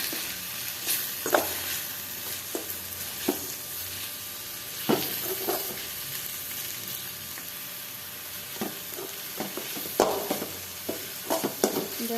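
Spices such as coriander powder and chili powder are stirred into bitter gourd curry frying in oil, giving a continuous low sizzle with scattered scrapes and taps of the spoon against the pan.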